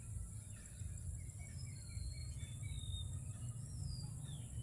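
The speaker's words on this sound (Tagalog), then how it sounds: "marinig mo yung huni ng mga ibon" Several birds chirp and whistle in short, rising calls from the trees, fairly faint and scattered across the moment, over a steady low rumble and a constant high insect-like whine outdoors in the Philippines.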